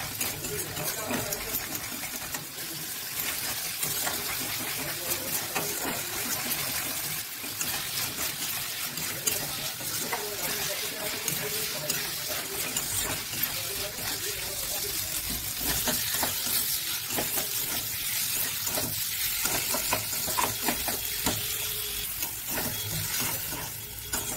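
Pointed gourd curry with spices cooking in a pan, a continuous close sizzle with watery bubbling and scraping stirring throughout, with a voice speaking over it.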